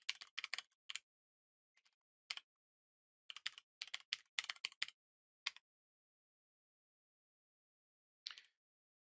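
Code being typed on a computer keyboard in short bursts of crisp, close key clicks separated by silent pauses.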